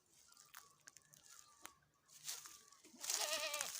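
A single goat kept at a rural village home bleats loudly in a wavering cry near the end, after a few quieter crunching and rustling sounds.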